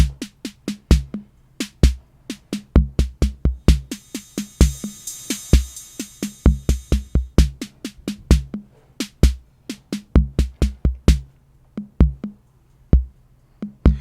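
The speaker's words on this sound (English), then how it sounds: "here I've got the TR-606 classic drum machine from Roland" A dry Roland TR-606 drum machine pattern loops steadily, with punchy kicks, snappy snares and ticking hi-hats, plus a brief hissing cymbal swell in the middle; no voices.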